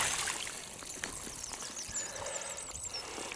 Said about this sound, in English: let's just stick a bit of water on him